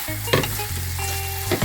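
Sweet peppers, garlic, tomato and spring onions sizzle steadily in a pan over a low stove, with a couple of brief stirring clatters breaking through the continuous frying hiss.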